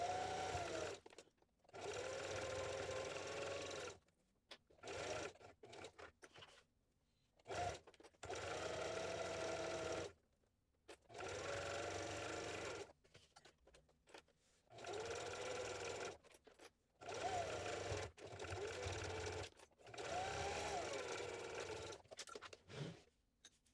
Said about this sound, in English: I want to sew all 3 of these sides using a 1/4 inch seam allowance